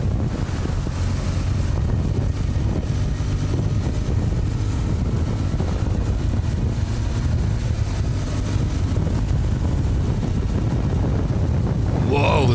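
Heavy wind buffets the microphone while riding a BMW R1200GS motorcycle on a mountain road near snowfields, a loud continuous roar with low rumble that drowns out detail and barely changes throughout.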